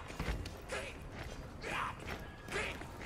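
Three short creaking, groaning mechanical sounds spaced about a second apart, like a heavy wooden door swinging open, over a low rumbling background, from the video game Warhammer: End Times.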